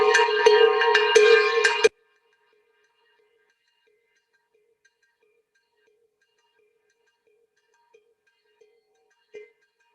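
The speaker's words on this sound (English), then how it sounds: "So that bell that's played by the bongo player" A bongo player's handbell, or cowbell, beats out a Latin jazz pattern in a quick, bright run of metallic strikes for about two seconds, then cuts off into near silence broken by a few faint knocks.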